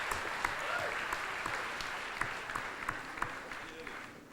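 An audience claps in steady, lively applause at a singing competition finale aboard the Oosterdam, a small crowd sounding close and full, with a voice talking over it briefly.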